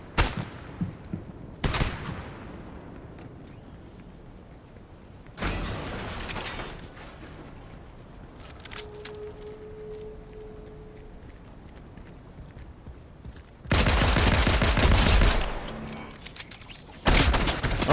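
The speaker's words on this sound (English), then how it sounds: "Still getting shot at." Bursts of gunfire in a Fortnite duos match, heavy volleys near the start, middle and end with quieter game ambience and a brief tone between them, no talking.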